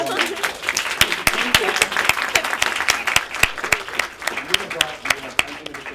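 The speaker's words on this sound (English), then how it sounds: "I just wanted everybody to give Amina a round of applause." Crowd applause for Amina at a campus Hijab Day event, sustained clapping with sharp individual claps standing out and voices chattering underneath.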